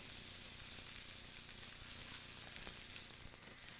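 Slices of bread toasting in butter in a wide pan, a soft continuous sizzle and crackle with occasional light shifting, fairly quiet and steady throughout.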